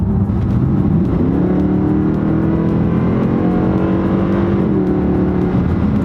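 A loud, steady engine roar rises and shifts as a Mercedes ML63 AMG SUV accelerates hard through 40, 50, 60, its pitch climbing through gear changes with no talking.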